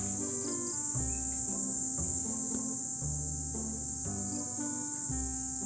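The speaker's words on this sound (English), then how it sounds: "Listen to the cicadas." Loud, continuous high-pitched cicada buzzing fills a tropical yard, with lower droning tones pulsing underneath.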